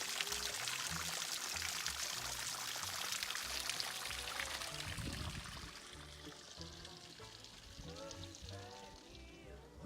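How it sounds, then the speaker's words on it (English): Water pours and splashes steadily down off granite rocks like a natural shower on the High Sierra Trail, a dense, close hiss that eases slightly halfway through and carries on alone. "Little natural shower."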